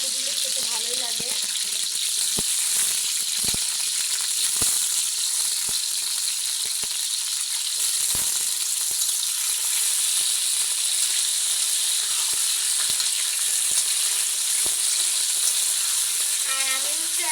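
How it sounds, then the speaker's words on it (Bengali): Cut potatoes frying in hot oil in a home kitchen pan, a steady bright sizzle running throughout with occasional clicks and knocks of utensils, no voices. "আলুটা আমি একটু ভেজে নেবো"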